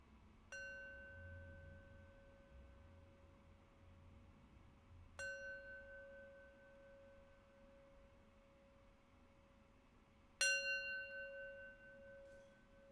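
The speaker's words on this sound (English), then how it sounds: "And I'll close our practice with 3 rings of the bell." A meditation bell is struck three times at wide, even intervals, each strike a clear ringing tone that hangs and slowly fades in an otherwise quiet room; the last strike is the loudest.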